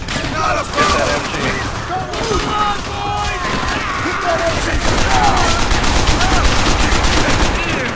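Battle in Call of Duty: World at War brings sustained machine gun fire, dense rapid bursts that thicken toward the end, mixed with shouting soldiers and talk over the gunfire.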